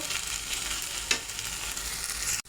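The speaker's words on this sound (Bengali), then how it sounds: "এই যে দেখুন ঢেঁড়সটা আমার প্রায় ভাজা হয়ে গেছে" Okra frying in a pan with a steady close sizzle and soft crackle throughout, one brief stir scrape in the middle, no talking.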